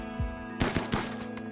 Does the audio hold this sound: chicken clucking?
no